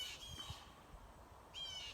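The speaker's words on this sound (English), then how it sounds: "and of course these birds are just" Birds squawking outdoors in a quiet neighbourhood, two harsh calls at the start and end with faint low rumble between, fairly close and moderately loud.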